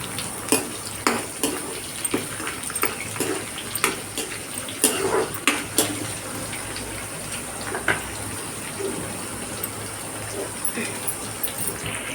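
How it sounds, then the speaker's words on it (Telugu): Drumstick (moringa) leaves being washed by hand in water, with continuous sloshing and splashing broken by irregular sharp clinks and knocks of a vessel, close and fairly loud. "మునగాకుని బాగా వాష్ చేసుకొని ఇలా సైడ్కి పెట్టుకోవాలండి"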